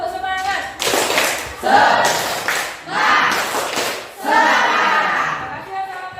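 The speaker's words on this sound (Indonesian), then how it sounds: "Kita tutup pakai tepuk semangat." A group performs the 'tepuk semangat' clapping routine in rhythmic bursts, with four loud patterned clusters of claps and chanted voices separated by short pauses, close and energetic.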